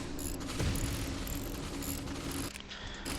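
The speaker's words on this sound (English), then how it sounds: "Those little wrenches turning are music to my ears." Ratcheting, gear-like mechanical whirring from wrenches turning in a Star Wars Clone Wars strategy video game, a steady dense texture running throughout with small tonal chirps on top, no talking.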